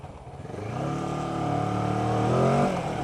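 A 2015 Kawasaki ER6n ABS motorcycle pulling away and accelerating, its engine note rising steadily in pitch and loudness, close by and heard alone.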